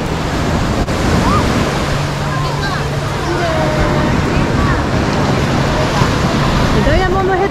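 Ocean surf at a Hawaii beach where surfers wait for waves: a loud, constant wash of breaking water mixed with wind buffeting the microphone, with faint distant voices underneath.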